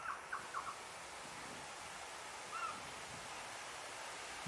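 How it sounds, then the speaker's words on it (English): A pied butcherbird in the Australian bush gives a quick run of clear, fluting notes followed by a single softer whistle, faint against steady wind and bush hiss. "at the end of our walk, we are welcomed by this handsome pied butcher bird."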